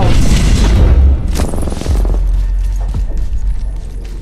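Enemy gunfire in a video game, a loud boom followed by a short burst of rapid shots and scattered thuds, close and fading into lower rumbling.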